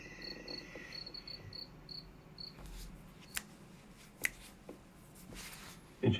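Crickets chirp at night along a plantation trail, a steady pulsing trill that cuts off after about two seconds and leaves near silence broken by a few sharp clicks and rustles.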